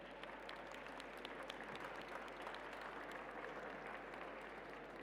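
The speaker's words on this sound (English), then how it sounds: "Please join me in giving them a round of applause." Steady applause from a conference audience for the panelists at a full session on low-carbon, inclusive transport systems, dense and even, heard at a moderate distance and fairly faint throughout.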